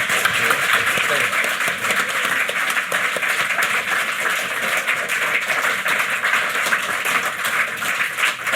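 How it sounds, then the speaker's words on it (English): An audience gives a round of applause for a guest at a podcast Christmas special, dense steady clapping filling the whole stretch without letup. "Let's give him a Planet Normal round of applause."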